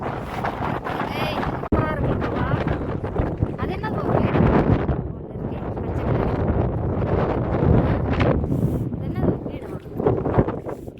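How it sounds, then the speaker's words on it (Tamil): A strong, cold wind sweeps across a misty hill, roaring and buffeting the microphone in heavy gusts while a person keeps talking throughout. "பயங்கர காத்துங்க."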